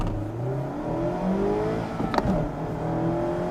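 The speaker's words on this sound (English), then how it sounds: "It's a proper little sports car noise." A 2016 Mazda MX-5 Miata roadster engine accelerating from inside the car, revs climbing in rising sweeps with a brief gear change, then pulling up again, close and steady.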